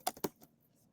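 Typing on a computer keyboard while entering a street address: three crisp key clicks, the first two sharp and close together, a softer third, then quiet.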